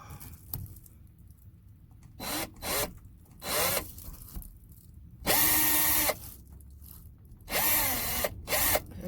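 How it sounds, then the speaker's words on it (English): Power drill boring a hole through a table for a mobile stove slide stand in a van, heard in several short loud bursts of whirring with quiet gaps between them. "There's the hole I need to drill"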